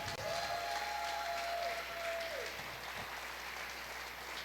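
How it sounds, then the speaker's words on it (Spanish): Church congregation applauding during a sermon, a steady wash of many hands clapping together at moderate distance, with a brief held tone near the start and no clear speech. "Denle un fuerte aplauso al Señor."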